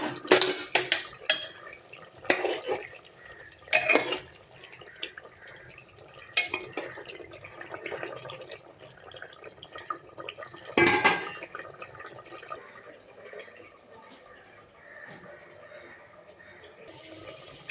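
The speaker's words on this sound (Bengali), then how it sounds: "ঝোলটা ফুটে গেছে, মাছটা দিয়ে দিলাম।" Fish curry broth with spinach, radish and potato simmers in a pan as fish goes in, with a few sharp clanks of metal utensils against the pan over a soft, wet liquid bubbling background.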